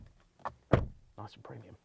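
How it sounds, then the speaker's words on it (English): Door of a 2024 GWM Cannon Alpha ute closing with a single solid thunk in the middle, surrounded by brief rustles and movement, and someone talking around it. "And this is what the door slam sounds like."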